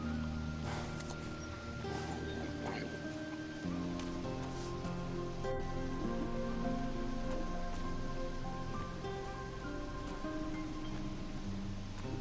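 Steady rain falls in the Risen video game, a constant dense patter on surfaces under soft, low-pitched background tones, and it keeps going without a break.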